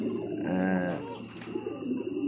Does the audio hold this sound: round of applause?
no